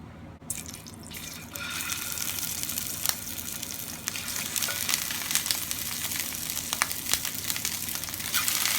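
Chicken pieces browning in a hot pan, giving off a steady loud sizzle and crackle with occasional sharper pops, starting abruptly and continuing evenly throughout.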